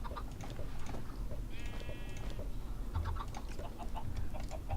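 Farm animals in a video game, with sheep bleating repeatedly alongside clucking fowl, several overlapping calls at moderate loudness over a busy ambient bed, with no talking.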